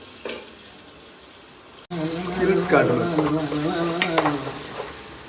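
Onions being stirred and fried in a pan, with a loud, steady sizzle that starts abruptly and continues beneath someone talking.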